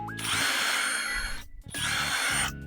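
A STR ST770 cordless impact wrench driving a screw in: two bursts of high-pitched whirring, each running about a second with a short pause between, close and loud.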